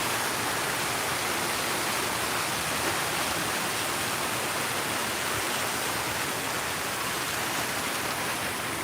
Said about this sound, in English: There's fountain. It's gorgeous. All the clay pots collecting the water.